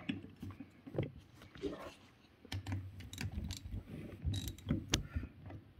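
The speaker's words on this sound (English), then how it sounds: "Okay, so I reversed the direction of my ratchet." A ratchet wrench clicks in quick repeated bursts while turning the AC compressor shaft on a Toyota, close and crisp, with someone speaking over the mechanical clatter.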